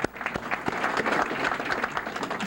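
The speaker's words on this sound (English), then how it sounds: "That deserves a round of applause." Audience applause at a trade policy council meeting, a close burst of many hands clapping at an even density, with little talk underneath.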